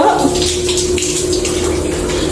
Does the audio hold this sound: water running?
yes